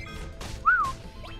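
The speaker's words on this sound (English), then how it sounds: "Apologies for the whistle. That was probably quite loud." A single person's whistle, a short rising-then-falling tone, sounds loud and close over quiet game audio during Final Fantasy VII play, with a few soft knocks around it.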